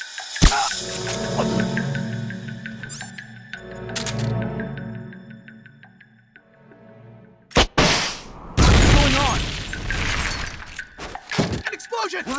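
Explosion in the stealth action game Metal Gear Solid Peace Walker: a sudden loud broadband blast erupts late, followed by a second sustained roaring burst with debris, after a stretch of game music and effects with tonal alarm-like sounds.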